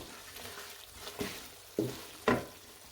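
Crushed ginger being fried for chicken korma, a soft steady sizzle in the pan with three scraping stirs growing louder toward the end, close and without voices.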